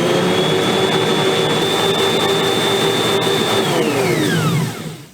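An electric mixer whirs loud and close as it beats sugar for a fresh apple cake, holding a steady high motor whine before it slows and spins down at the end.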